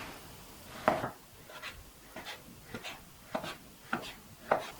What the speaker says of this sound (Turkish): İlk önce kuyruk yağını bir kesme tahtasına alıp bir bıçakla ince ince doğrayacağız.